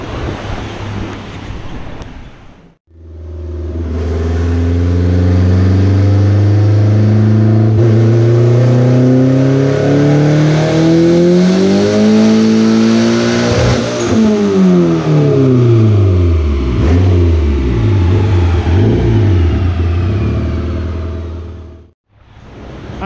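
A stock Honda Integra GSR engine on a dyno, revving in one long pull that climbs steadily in pitch, then winds back down. The pull is loud and close, with a steady roar from the rollers underneath.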